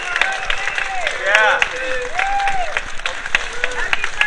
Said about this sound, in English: Another round of applause for Dean Royer.